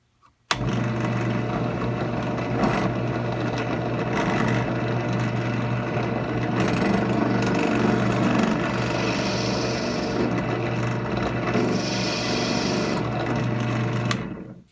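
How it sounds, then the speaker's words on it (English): A power drill bores steadily through a pool ball, a continuous grinding whine with rasping, scraping texture that starts abruptly, holds loud and close for about fourteen seconds, then cuts off. "I'm just kind of going to get it centered up with the drill and then hold it down as best I can as I drill through it"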